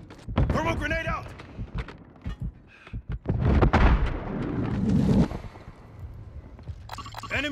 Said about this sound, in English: Stun grenade out. Thermal grenade out.